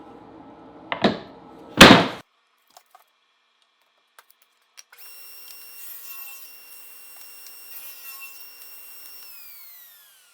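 A power saw cuts a strip of 3/4 inch plywood after two short loud rasping bursts; the motor then runs as a quieter steady high whine with a gritty cutting rasp before winding down, close by with no voices.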